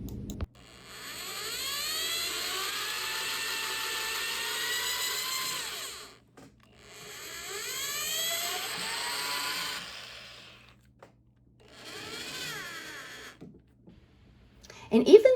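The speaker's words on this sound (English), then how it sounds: "I am going to screw into the side of the leg into this shelf to tighten it up" A power drill drives a screw through the side of a salvaged furniture leg into a shelf, three whining runs with the motor rising in pitch and pausing in between, close up.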